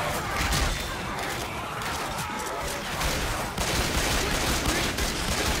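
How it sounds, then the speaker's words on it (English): Dense, continuous gunfire in Left 4 Dead 2, rapid overlapping shots forming a loud chaotic barrage with no pauses across the few seconds. "I'm standing around the corner shooting stuff"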